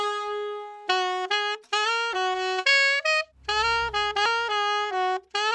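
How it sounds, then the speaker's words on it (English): Jazzy chopped sample for a hip-hop beat: sustained tonal chord stabs cut into short, rhythmic segments with abrupt stops and pitch changes, a brief low rumble in the middle, loud and clean with no talking. "I then found a sample with some sample chops that sound like this."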